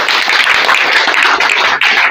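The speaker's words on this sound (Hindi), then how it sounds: "एक बार जोरदार ताली" Loud, dense applause from an audience at a residential school event in Bihar, with steady, close clapping that fills the whole stretch and barely dips near the end.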